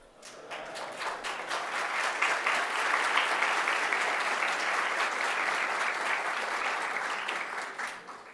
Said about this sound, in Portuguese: Nem comecei a falar ainda, já essas palmas.